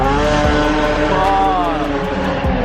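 A Mazda RX-7 race car passes close by on a drift track, a loud, high, strained engine note that rises and shifts in pitch as it goes by.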